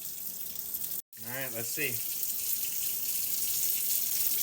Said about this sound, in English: Gonna run just the hottest water I can over this and see how it goes.